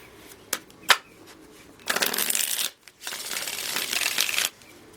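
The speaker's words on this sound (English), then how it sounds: "One more shuffle." Tarot cards being shuffled: a couple of sharp card snaps, then two long riffling passes separated by a brief pause, close and clear with no voice over them.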